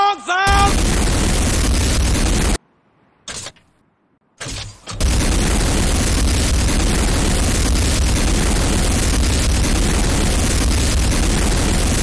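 Heavy, continuous explosions and gunfire pound the Nod power plant during an attack in the game Renegade, loud and dense, briefly cutting out twice before resuming.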